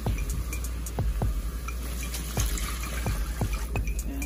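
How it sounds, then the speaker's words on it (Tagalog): Water pours steadily into a cooking pot, with small clinks and knocks of metal cookware throughout. "Lagyan na natin siya ng tubig."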